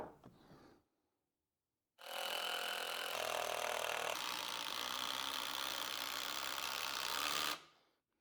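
A power drill drives a lag screw up through the bottom into a cheap wooden table stretcher, a steady loud motor whine that deepens as the screw bites, running for several seconds before stopping, close up after a brief thunk.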